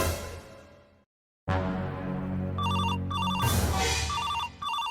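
A telephone rings with a repeating electronic ring pattern, loud and close, as a call is placed, over a steady background hum and after a brief moment of silence.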